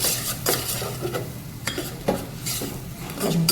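A spoon stirs gram flour into hot oil with onion in a pan for green onion kadhi, making repeated close scraping strokes over a soft sizzle, with occasional metal clinks.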